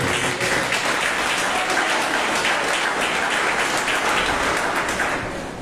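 A church congregation at a Bible study school gives a sustained, dense round of applause that fills the room steadily and begins to taper off near the end.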